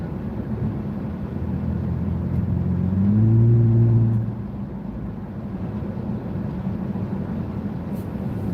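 A car driving along with a steady low engine and road rumble, swelling briefly as it accelerates, then settling back to a constant drone.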